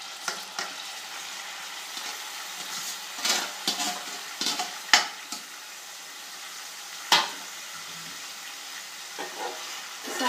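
Chicken liver pieces fry in hot oil for a home-style liver fry, a steady sizzle running underneath while a spoon stirs now and then with sharp scraping clicks against the pan, close and fairly loud, with no talking.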